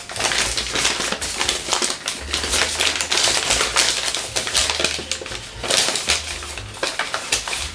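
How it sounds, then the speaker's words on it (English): Origami paper being creased along a mountain fold while shaping a Ryujin 2.1 dragon head, giving dense, continuous crinkling and crisp rustling with sharp tapping crackles throughout, close and fairly loud. "on this side we can actually extend the mountain fold all the way to the end"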